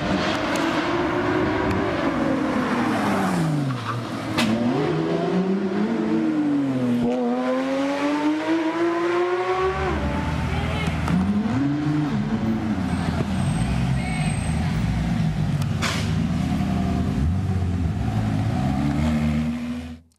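A Porsche and a Ferrari street racing in Beverly Hills rev and accelerate hard, pitch rising and falling through gear changes, loud and sustained like high-speed racing.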